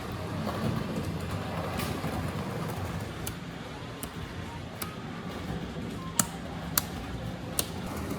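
A Hornby model EM2 electric locomotive runs with a soft, continuous whirring rumble, joined near the end by a few sharp clicks, close and low in level, with some speech under it.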